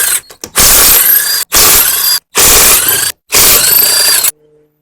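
A ratchet works loose the lug nuts on the rear wheel of a BMW 330ci autocross car, loud clicking bursts in four long runs separated by brief pauses, then silence.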